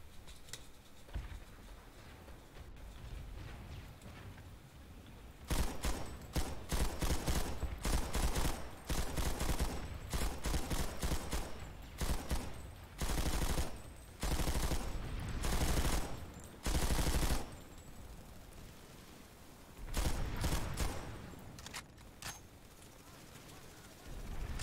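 Bursts of automatic gunfire from the Planetside 2 video game, loud clustered volleys separated by short lulls across the stretch, with someone talking faintly at times.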